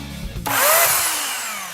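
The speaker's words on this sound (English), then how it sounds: "The chainsaw." A Minecraft chainsaw sound suddenly kicks in, a harsh high whine that surges loud then slowly eases off as it keeps running.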